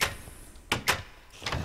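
A door closing in Minecraft, two quick sharp knocks close together followed by a softer pair of clicks, faint and close with no talking.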